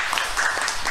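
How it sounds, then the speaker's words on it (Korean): Audience applause at a Korean gender-equality talk concert, a steady wash of many hands clapping, dense and continuous across the brief moment. "저희가 뜨거운 박수로 서로를 환영해 볼까요?"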